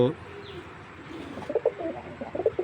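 Pigeons coo in short repeated bursts, fairly close, at a tournament-grade coloured pigeon breeder's loft, with a brief chirp and some low background noise.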